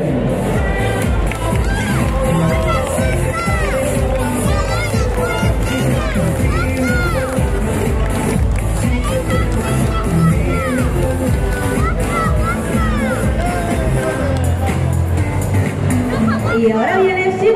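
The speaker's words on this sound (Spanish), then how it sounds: "Un fuerte aplauso para Helen." A large crowd at a cosplay catwalk show in Valencia cheers and shouts continuously, with whoops and scattered clapping filling the space, loud and unbroken throughout.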